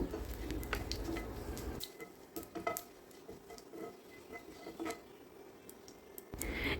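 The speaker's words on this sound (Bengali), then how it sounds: "এবার এই দুটিকে একটু নেড়ে চেড়ে ভেজে নেব" Cumin seeds and curry leaves frying in hot oil, stirred in a pan: a low, steady sizzle broken by scattered spatula scrapes and light clicks.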